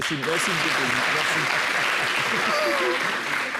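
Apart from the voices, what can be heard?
applause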